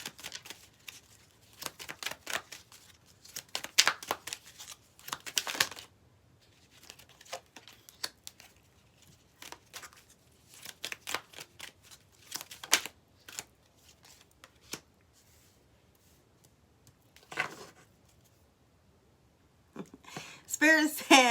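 Tarot cards being shuffled and drawn, close soft riffling and slapping bursts recurring across the stretch, quiet pauses between, a voice faintly present.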